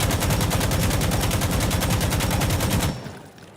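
An AKM rifle fitted with a foregrip fires in Insurgency Sandstorm: a loud, rapid, unbroken automatic burst of nearly three seconds, ending abruptly with a short fading tail.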